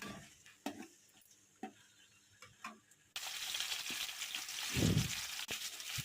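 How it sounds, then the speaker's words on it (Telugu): Onions, tomato and curry leaves frying in a pan for spring pasta, a few light stirring clinks and then a steady close sizzle with a louder burst of scraping. "ఉల్లిపాయలు బాగా వేగనివ్వాలి తర్వాత టమాటా వేసుకోవాలి కరివేపాకు అవన్నీ బాగా వేగనివ్వాలి"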